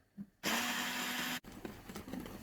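An electric mixer whirs loudly for about a second while cake batter is beaten with milk and oil for a poppy seed revani, then cuts off, leaving softer scraping and handling sounds.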